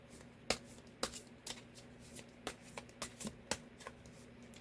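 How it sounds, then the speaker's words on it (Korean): Tarot cards are shuffled and drawn close by in quiet surroundings, giving a string of sharp, irregular card snaps and flicks. "1번 분에게 어떤 결심을 가질 것인지 카드 한번 뽑겠습니다"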